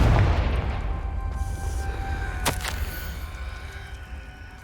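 A Confringo blasting spell explodes in the Hogwarts Legacy game with a loud, low boom at the start that rolls off slowly. A single sharp crack follows midway through the fading rumble.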